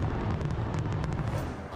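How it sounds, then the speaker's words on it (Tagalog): New Year fireworks bursting over Copacabana Beach in Rio de Janeiro, Brazil, heard as a dense, continuous roar of overlapping pops and booms, loud and steady throughout. "Nagningning din ang kalangitan sa mga makukulay na paputok sa Copacabana Beach sa Rio de Janeiro sa Brazil"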